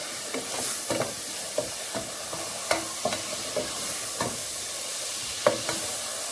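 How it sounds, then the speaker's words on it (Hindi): Ginger garlic paste, onions and whole spices sizzle in a pot for biryani, a steady frying hiss broken by repeated scraping strokes of a spoon, close and without talk. "और इस अदरक लहसुन की पेस्ट को भी प्याज में अच्छे से भून लेना है।"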